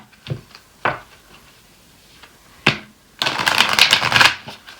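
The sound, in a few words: shuffling Akashic Record oracle cards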